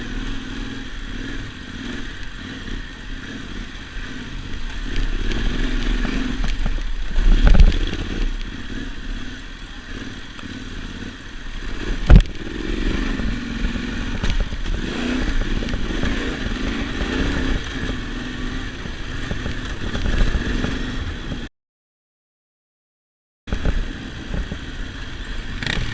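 Motorcycles riding off-road on a backcountry dirt route through Lockhart Basin near Moab, Utah: a steady engine drone close to the microphone with rattling and jolts from rough ground, a couple of sharp knocks, and a brief dropout near the end.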